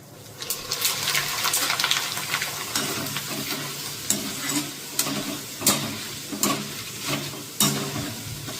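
Homemade chevda snack sizzles in hot oil, a constant frying hiss broken by regular clacking stirs of a spoon in the pan.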